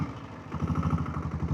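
A diesel Bullet motorcycle engine thumps steadily up close, a low pulsing idle-to-pickup rhythm with a slight mechanical clatter and no voices over it.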